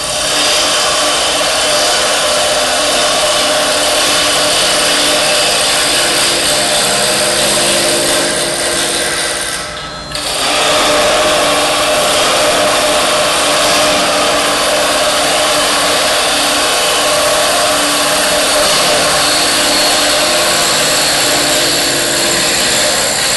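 Wood being roughed out on a lathe, a steady loud broadband whir of the spinning blank against the gouge, continuous throughout with a brief dip near the middle.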